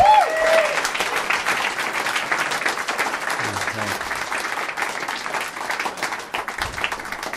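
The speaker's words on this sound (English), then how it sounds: "big round of applause for Dave Anthony" A live comedy podcast audience applauds a guest's arrival with a sustained wash of clapping and some crowd noise, loud at first and then holding steady, with a few faint voices beneath it.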